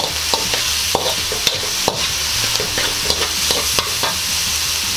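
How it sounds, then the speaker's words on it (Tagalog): A spoon scrapes and clacks repeatedly in a pan as squid adobo with soy sauce is stirred, sharp irregular knocks over a steady background sizzle. "Tapos hahaluin lang po natin ng hahaluin ito."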